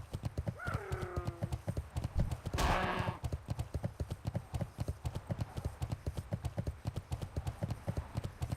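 A Paladin horse mount gallops in World of Warcraft, its hooves clip-clopping in a steady, close rhythm throughout. A short whinny and a brief burst of noise break in near the start, and no one speaks.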